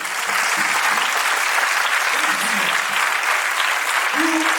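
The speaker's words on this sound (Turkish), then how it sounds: "Ve hepsine buradan sizlerle birlikte büyük bir alkış rica ediyorum." Loud, sustained applause from a large audience at a graduation ceremony for young technology students, dense clapping filling the whole stretch with a few low voice murmurs underneath.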